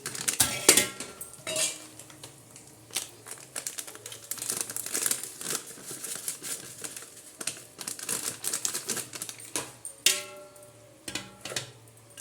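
A tempered spice mixture for pickle is stirred in a pan, giving continuous rattling, scraping and crinkling utensil noise close up, busy and uneven throughout, with no voices.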